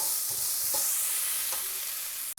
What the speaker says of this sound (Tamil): ஆனியன் லைட்டாக சாட் ஆனதும் ஆனியன் லைட்டாக குக் ஆனதும்